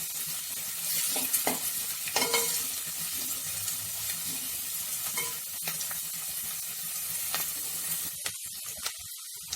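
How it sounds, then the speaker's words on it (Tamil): Two medium onions sizzle steadily in a pan for country chicken gravy, with intermittent spatula scrapes and stirs over a constant hiss that briefly dips near the end. "மீடியம் சைஸ் வெங்காயம் 2 போட்டுக்கோங்க. வெங்காயம் வதங்கட்ட கொஞ்சம்."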